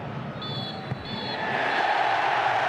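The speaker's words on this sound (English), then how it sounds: "A cheer rings around the valley." Football crowd cheering at Charlton Athletic's stadium, The Valley, during a 2006/07 match against Newcastle United, a broad roar that swells and stays loud through the second half, with a brief whistle-like tone early on.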